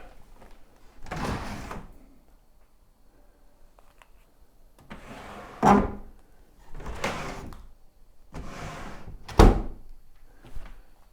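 A stuck door in an abandoned Air Force radar station building is forced, giving five heavy thumps and scraping bangs spaced a second or two apart, loud and close with quiet gaps between.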